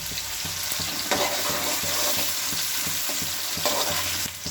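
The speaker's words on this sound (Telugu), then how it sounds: "ఇది కొంచెం కాగానే ఉల్లిపాయలు వేసుకోవాలి ఫ్రెండ్స్. ఇందులోనే కరివేపాకు ఫ్రెండ్స్." Onions and curry leaves fry in hot oil for a chicken curry, a steady loud broadband sizzle with soft stirring scrapes throughout and no talking.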